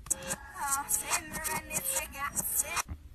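A reversed pop song plays for about three seconds, its backwards vocals and beat pulsing in uneven bursts that swell and then cut off abruptly near the end.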